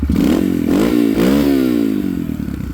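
A Yamaha TTR-125 dirt bike with a big-bore engine revs loud and close, its pitch climbing and falling through several throttle blips over a steady idle, with no talking.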